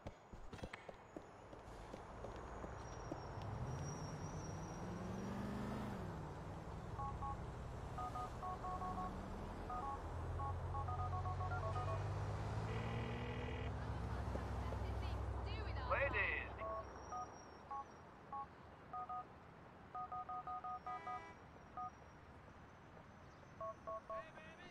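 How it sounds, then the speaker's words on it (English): Phone keypad tones from the video game GTA IV beep in quick runs of dialing, mid-level, under game sounds and footsteps. "Phone call."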